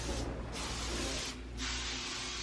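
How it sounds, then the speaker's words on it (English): Clorox disinfectant spray is pumped onto a hotel bathtub in three close, breathy hissing bursts, each separated by a brief pause, over a quiet room hum. "now I can just give the bathtub a spray"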